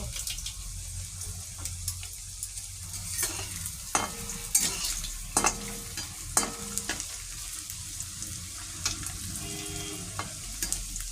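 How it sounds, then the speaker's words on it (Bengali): Paneer fries in a pan until lightly browned, with a soft steady sizzle under repeated clinks and scrapes of a utensil stirring against the metal. "হালকা ব্রাউন করে ফ্রাই করে নেব।"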